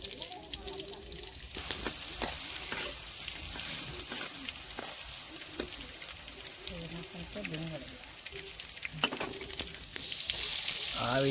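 Garlic paste sizzles steadily in hot oil while preparing a Gujarati crab dish, a continuous bright frying hiss with occasional clicks of a utensil, and a person talks over it throughout.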